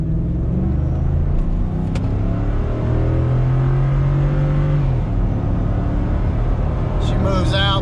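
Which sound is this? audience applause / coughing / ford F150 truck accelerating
ford F150 truck accelerating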